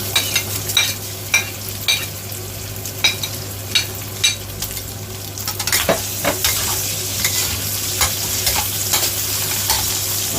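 Bacon and dried shiitake mushrooms stir-fried together in a wok, a steady close sizzle broken by repeated scraping strokes of the spatula, busier and denser toward the end, with no voices.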